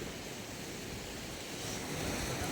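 Waves washing in at the seashore: a soft, steady hiss of surf with no break, heard faintly from a short distance.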